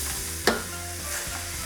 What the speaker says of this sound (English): Stirring occasionally until the onion is soft and translucent